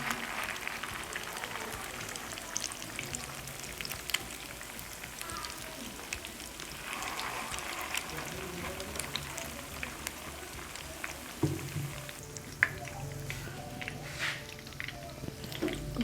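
Shahi malai kebabs deep fry in oil over low heat, giving a steady soft sizzle and crackle that runs continuously, fairly faint, with light kitchen noise on top.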